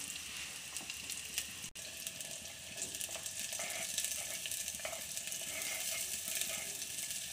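Chopped small onions and green chillies fry in a pan with a soft, steady sizzle that grows slightly busier, with a brief clatter early on and light stirring scrapes.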